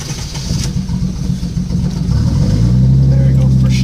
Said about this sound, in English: Alright, so we're going to start with cold start, of course.